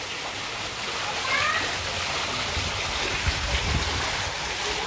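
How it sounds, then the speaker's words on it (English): A fountain at a restaurant entrance in Sharjah, UAE, with steady splashing and rushing of falling water, a continuous wash of sound with faint background noises mixed in. "The sound of the water is so relaxing and nice."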